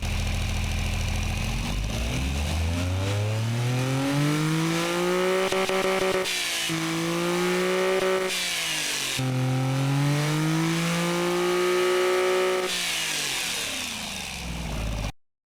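A loud naturally aspirated three-cylinder racecar engine revs repeatedly, its pitch sweeping up and down in several long rises and falls, raspy and close, with no voices.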